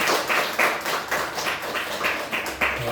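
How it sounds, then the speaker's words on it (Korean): A church congregation claps together during a Sunday worship service to welcome newcomers. The applause comes as steady, evenly spaced bursts that fill the room. "우리 서로를 우리 축복하며 우리 박수로 환영하겠습니다."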